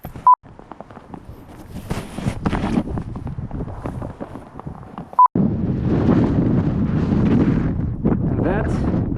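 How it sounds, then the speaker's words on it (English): Strong wind buffets the microphone beside the river where the Sambre meets the Meuse in Namur, a loud continuous roar that swells in the second half, with people talking over it and two short electronic beeps. "It's very windy here."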